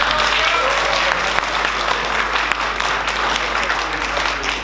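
An audience applauds at a game jam final ceremony, with dense, steady clapping from a crowd filling the whole stretch without letting up.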